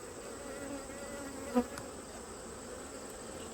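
Honey bees hum steadily around an open hive filled with goldenrod nectar, a close, continuous buzzing drone with one brief louder buzz as a bee passes near the middle.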